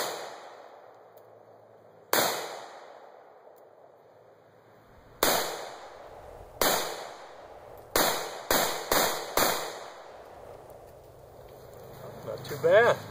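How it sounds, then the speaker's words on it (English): Close-range function-check shots from a new Century Arms VZ-2008 paratrooper rifle fired outdoors: about seven or eight sharp, loud reports, two widely spaced, then a faster irregular cluster, each ringing off briefly. "we want to get a function check on this new rifle"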